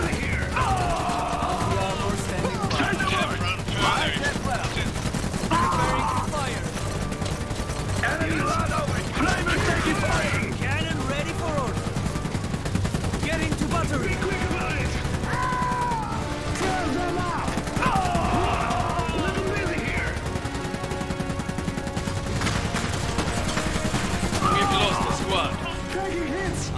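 Gunfire, cannon blasts and crashing explosions from the real-time strategy game Iron Harvest pound continuously in dense, loud bursts, mixed with voiced unit callouts and a constant battle din.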